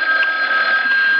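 A telephone ringing as a radio drama sound effect, a loud, close, continuous electric bell trill that fills the whole moment on its own.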